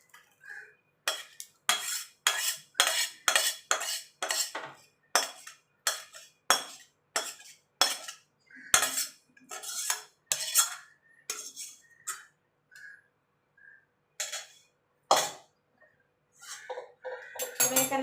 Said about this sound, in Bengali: আমার পায়েসটা রেডি হয়ে গেছে, আমি গ্যাস নিভিয়ে দিয়েছি। এবার আমি ঢেলে দেবো।